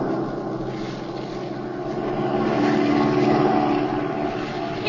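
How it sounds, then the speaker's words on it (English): Propeller airplane engine as a radio-drama effect: a continuous droning hum that swells slightly louder midway as if passing nearer, heard alone with no talking. "Swing over so we can get a look at that plane down there."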